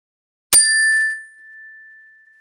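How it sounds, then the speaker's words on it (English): A single mindfulness chime struck once, ringing bright and clear with a sharp onset, then a long sustained tone slowly fading alone in silence. "you're going to hear the chime one more time"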